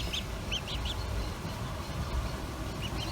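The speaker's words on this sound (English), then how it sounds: "I'd like you to meet the first duckling" A newly hatched duckling peeps in short, high chirps several times, sitting in a shallow container indoors with a steady low background hum and no talking.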